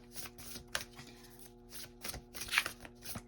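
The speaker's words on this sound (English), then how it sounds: "They'll tell me when to stop shuffling." Tarot cards are shuffled by hand in quiet bursts of riffling and tapping, uneven short flurries with small pauses between, close and soft, with no speech.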